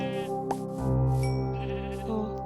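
Sheep bleating in the Minecraft video game, a couple of drawn-out wavering bleats close up and moderately loud, alone with no talking.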